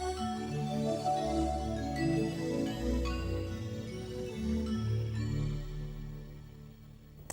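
Roland JV-90 synthesizer Heaven's Door patch layering a choir-like voice tone with bell and vibes tones, a soft sustained pad of overlapping chords with shimmering upper partials, slowly fading out at the end.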